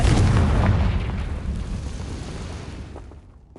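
A Confringo spell in Hogwarts Legacy on PS5 lands as one loud, booming blast that rolls and rumbles before fading out, with no voices.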